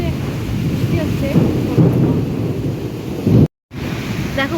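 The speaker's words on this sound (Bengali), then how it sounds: "বৃষ্টি সেরকম মেঘ ডাকছে।" Loud outdoor thunderstorm at night, with low rumbling thunder rolling under steady rain, a brief total dropout near the end, then the rain continuing.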